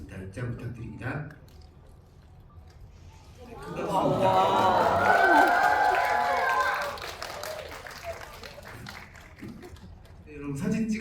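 A theater audience at a Korean film screening and guest talk claps for actors and a director walking onto the stage, a swell of applause that rises midway and fades, framed by a host's voice before and after.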